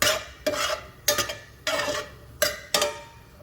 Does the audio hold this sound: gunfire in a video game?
no